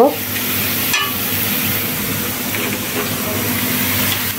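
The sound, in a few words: minced meat poured into frying onions, sizzling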